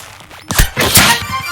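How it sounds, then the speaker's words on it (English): In the Deceive Inc. spy game, a few sharp impact hits land in quick succession. Two loud, close thwacking shots are followed by a rattling tail of smaller clatters. "Now let's go for just 1 headshot this time."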